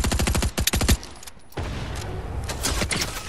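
Rapid Fortnite gunfire in a duos match, a fast rhythmic burst of close shots up front, a short pause, then more scattered firing amid game noise.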